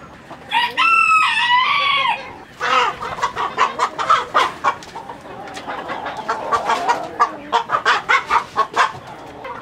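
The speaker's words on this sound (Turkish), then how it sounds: "yakaladığımız bütün horozlar burada." A rooster crows loudly nearby, followed by a stream of rapid, busy clucking and squawking from several caught roosters close together.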